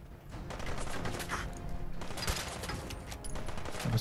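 Gunfire in Fallout 4: repeated sharp shots and bursts crackle throughout, some close and loud, others overlapping in quick volleys over a noisy combat background.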